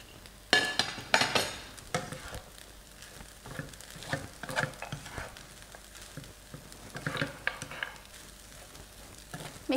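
Pineapple fried rice with spring onion being stirred in a hot pan, with steady sizzling and repeated scraping and clinking strokes of a utensil against the metal, close and fairly loud throughout.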